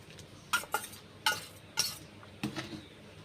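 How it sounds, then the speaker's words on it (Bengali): A spatula scrapes and clinks against a pan while stirring a cooked spice paste, in about five short, separate strokes that are fairly quiet and heard with no talking. "ভালো করে খুন্তি করে এইভাবে নেড়ে দেব।"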